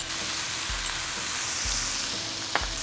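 Pork sizzles steadily in a hot pan as soy sauce goes in for Shanghai noodles with fresh chili, a loud continuous fry with a few low thumps and a brief sharp clink near the end.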